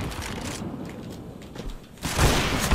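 A grenade explodes in Counter-Strike: Global Offensive, a sudden loud burst that follows quieter gameplay sounds of shots and footsteps, then a sustained roaring blast to the end.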